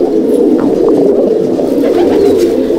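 Male breeder pigeons in a loft coo loudly and without pause, the low, rolling calls of many birds layered together nearby, with a few faint higher chirps over the top.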